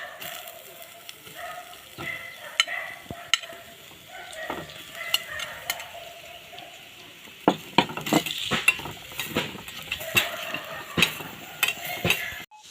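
Onion, crushed garlic and ginger are sautéed in a hot pan: a continuous sizzle broken by repeated sharp scrapes and clinks of a spatula stirring against the metal, close and clear, with no talking.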